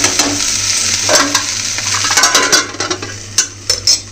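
Onion frying in a pan with turmeric and salt, a loud close sizzle with steady stirring and scraping strokes that grow sharper and more clattery toward the end, no voices.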